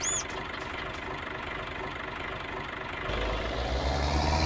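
A warmed-up farm machine engine in Farming Simulator idles with a steady low knocking rumble, growing louder and deeper near the end as it revs slightly.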